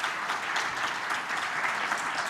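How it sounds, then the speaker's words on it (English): Steady, fairly quiet applause from a convention audience for a panel of speakers, continuous dense clapping throughout. "let's give a round of applause to our panelists."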